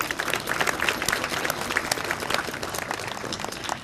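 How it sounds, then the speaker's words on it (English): Steady audience applause fills the air at an evening municipal band concert in Ste. Genevieve, Missouri, a dense crowd of clapping hands sustained evenly throughout without speech. "let's give them a round of applause"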